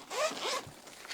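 A pencil case zipped shut, with a couple of quick, close zipper pulls, rasping and fairly loud, then a small trailing zip at the end.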